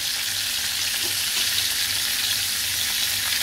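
Bangda mackerel fries in oil in a pan over medium heat, a steady, even sizzle that stays close and constant throughout, with no voices.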